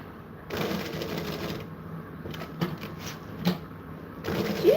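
A sewing machine stitches a tag onto fabric during production sewing, heard as a few short, fairly quiet runs of stitching separated by pauses, with no voices.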